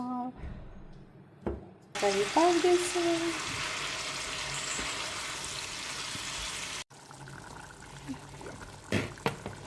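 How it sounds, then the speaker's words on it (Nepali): Pumpkin fries in a pan, giving a broad steady hiss of sizzling for several seconds, cut off abruptly. A voice speaks at the start and there is quieter clatter afterward. "सो फ्राई गर्छु यसलाई चाहिँ सिम्पलमा"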